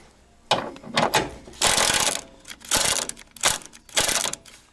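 A ratchet with a 13 mm socket loosens bolts during suspension work on a BMW E36 320i, giving several loud, close bursts of rapid clicking separated by short pauses.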